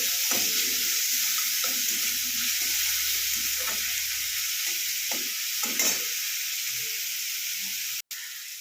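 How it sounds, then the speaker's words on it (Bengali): Chicken sizzles steadily in a pan while being cooked for Tibetan thukpa, a dense continuous frying hiss with scattered stirring clatters and scrapes, close and fairly loud, ending with a sharp click. "চিকেন এখানে অনেকটাই ভাজা হয়ে গেছে"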